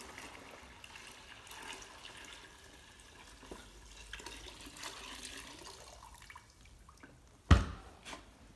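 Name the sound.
water draining from mini dry ice fog machine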